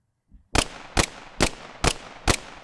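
Five sharp, punchy layered gunshots built in Krotos Weaponiser fire in an even rhythm, each a loud, close, dry crack with a short tail, after a faint low thump.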